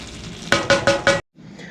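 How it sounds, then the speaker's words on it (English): Ground beef and sausage brown in a pan, a soft sizzle broken by four quick clinking scrapes of a utensil against the pan, then a brief pause before the frying continues faintly. "our burger and our sausage browns up"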